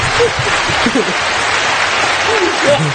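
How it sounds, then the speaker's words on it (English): An audience at a stand-up comedy show claps and cheers in a dense, steady wash of applause that holds loud and even throughout. "The crowd is going wild."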